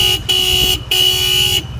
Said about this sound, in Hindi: तो इस बाइक में आपको ट्विन हॉर्न मिलते हैं,